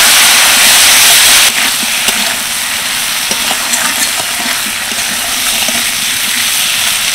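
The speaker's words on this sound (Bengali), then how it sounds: "বেশ ভালোভাবে নেড়ে চেড়ে কষিয়ে নিলাম" Small mourala fish cooked with spice paste of Kashmiri chili powder, ground cumin and green chilies sizzle loudly in a pan, with hissing frying noise and occasional scraping clicks as the mixture is stirred, no voices.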